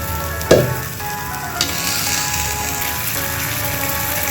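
Potatoes fry in a pan with a steady, close, loud sizzle that runs throughout, broken by a sharp clatter near the start and a softer knock a second later.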